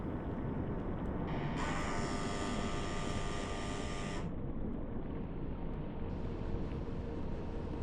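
Type VIIB U-boat engines running at silent speed in the game UBOAT, a steady low rumbling drone with a bright hissing layer that swells midway and then cuts back, constant and enveloping with no voices.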